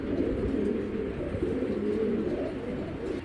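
Giribaz high-flying pigeons coo in a close, continuous low warbling murmur with no talking.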